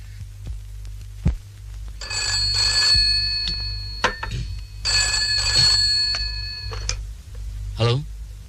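Telephone ringing in two long trilling bursts of bell-like rings indoors, fairly close, with a low hum underneath and brief speech at the end.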